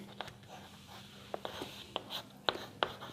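Chalk or marker taps and scratches on a classroom board during a physics lesson, a few short sharp strokes spaced irregularly, close and fairly quiet over faint room tone.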